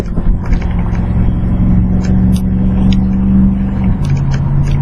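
Engine of a wood-gas powered truck pulling hard under acceleration, a loud steady droning rumble whose pitch holds and then shifts, heard from inside the cab with no talk.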